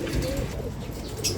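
A young stray pigeon coos softly and close by, its low murmuring rising and falling, with a brief flutter of movement and some faint background noise.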